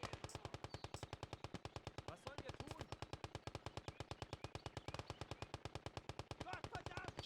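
Soldiers in the World War II game Gates of Hell return fire: sustained rapid machine-gun bursts rattle in an unbroken, evenly spaced stream of loud shots, with a short gap and some voices underneath.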